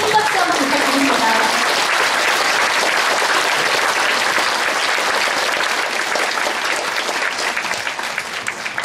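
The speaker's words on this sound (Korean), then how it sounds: "객석탕에서 인사해주신 여러분 큰 박수 한번 부탁드립니다." Sustained audience applause fills the hall at a county governor's inauguration ceremony, steady and dense throughout, with a few voices briefly audible near the start.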